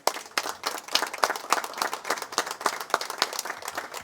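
A church congregation applauding, a sustained patter of many hands clapping at moderate volume with sharp individual claps standing out, nearly free of talk.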